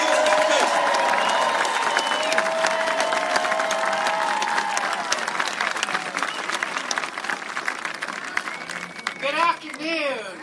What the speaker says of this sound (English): please give a big round of applause for Sister Simone Campbell and Rabbi Nehemiah Ben Moshe